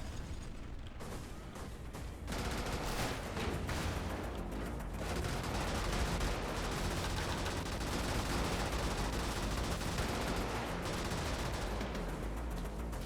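Mech weapons in the Brigador game fire in dense, rapid bursts over a constant mechanical rumble that grows heavier after the first couple of seconds and continues unbroken, with no talking.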